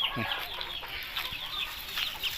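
Young chickens on a breeding farm, a flock of about a hundred birds, cluck and chirp in quick overlapping calls close by, with a low rumble of farm noise underneath.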